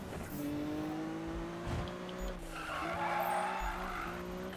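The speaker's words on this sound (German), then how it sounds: "wir driften jetzt gut" Car drifting in Need for Speed (2015), with steady engine drone, long tire skid and screech, and revving rising and shifting as the car slides, no speech.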